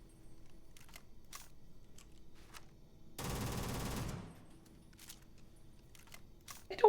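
A rapid mechanical rattling burst of about a second marks the R0 18 Raptor gun reload animation in the Starfield video game, set among faint sparse clicks in otherwise quiet surroundings, with a sharp click at the very end.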